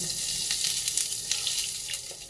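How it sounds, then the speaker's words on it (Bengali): Nigella seeds and asafoetida frying in hot white oil in a wok, a soft, continuous sizzle with faint crackling pops over a short stretch. "আমি কিছুটা কালো জিরে দিয়ে দেবো। দেবো কিছুটা হিং,"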